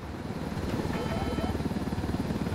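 A helicopter in the video game Ghost Recon Wildlands, a steady close rotor drone with a pulsing low thump, loud and continuous throughout.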